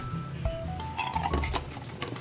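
An empty sardine tin can is rinsed, giving small metallic clinks and knocks mixed with faint splashing, close and fairly quiet across a few seconds.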